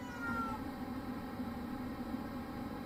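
A female cat in heat yowls in a continuous, droning wail that holds steady and fairly loud for several seconds without a break.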